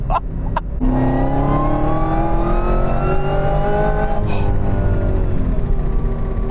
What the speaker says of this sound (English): we're gonna roll onto the throttle here because we are not on those drag radials